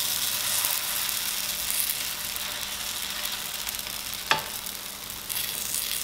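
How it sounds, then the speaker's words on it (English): Kimchi pancake batter sizzles and crackles as it fries in a pan, a steady close hiss with one sharp pop partway through. "Oh yeah, I love the sizzle."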